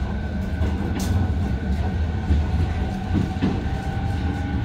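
Keio Line train running between Takaosanguchi and Takao through tunnels and mountains, a steady close rumble with rhythmic clicks of wheels over rail joints, no voices.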